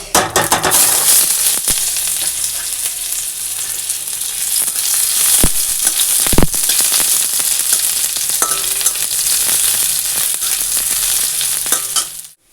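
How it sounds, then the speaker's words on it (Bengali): Dry red chili, black cumin and onion are tempered in hot oil over cooked dal, producing a loud, constant close-up sizzle with a few sharp knocks and clinks, and no voices. "এবারে ফোড়ন দিব একটা শুকনো লঙ্কা আর কালো জিরা আর দেব পেঁয়াজ"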